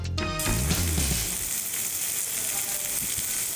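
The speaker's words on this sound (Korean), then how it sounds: "진짜 옥상으로 따라와 고기 구워줄게." Meat sizzles loudly on a rooftop grill in one constant, close frying hiss. A brief burst of music plays at the very start.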